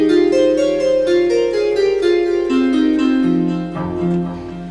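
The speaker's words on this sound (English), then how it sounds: "we've got the fretboard sound, which sounds like this when we load it" Fretboard sound of the Passerelle Bridge Guitar virtual instrument, sustained tonal notes stepping through a slow melodic line with a bright harmonic shimmer, played alone and fading slightly toward the end.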